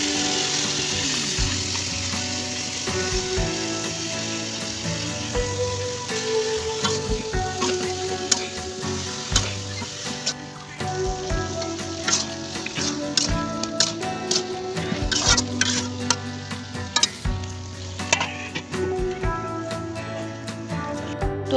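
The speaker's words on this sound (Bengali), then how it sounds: "এখন আমি এই পেঁয়াজের ভিতরে এই সবজিটি দেবো।" A vegetable coated in ground spice paste, salt and turmeric frying in onions in a home kitchen, a loud steady sizzle with frequent sharp taps and scrapes of stirring throughout, no voices.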